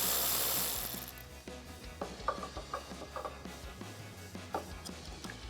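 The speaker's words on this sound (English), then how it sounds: "And then I'm gonna loosen up the nut on my negative with a 10mm socket." A ratchet with a 10mm socket works the nut on a battery's negative terminal, giving quick, faint clicking bursts in short irregular runs at close range, alone without talk.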